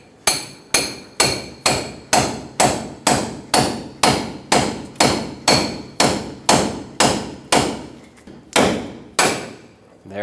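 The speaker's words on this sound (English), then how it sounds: "hammer this up, or use a pickle fork, whatever you have, whatever you want to do, but get the ball joint out of here" Repeated hammer blows drive a front lower ball joint out of a 1995-2004 Toyota Tacoma, roughly sixteen sharp, evenly spaced metallic strikes, loud and close, ringing briefly after each hit with no talk.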